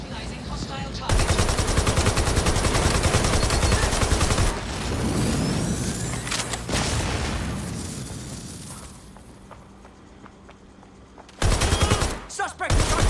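Loud, dense automatic gunfire and bursts in Watch Dogs Legion, sustained fusillade with short pauses and explosive booms, close and dominant, with brief voices under the shooting.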